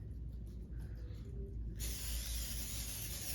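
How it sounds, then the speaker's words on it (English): Pam cooking spray is sprayed onto a pizza crust: a faint background at first, then a sudden steady aerosol hiss lasting over a second until the end. "I am going to spray it with a little bit of Pam"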